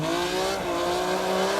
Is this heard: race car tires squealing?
yes